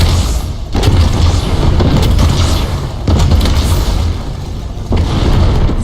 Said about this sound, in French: J'adore faire rager mes potes avec le mortier.